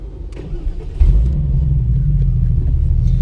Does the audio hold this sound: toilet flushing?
no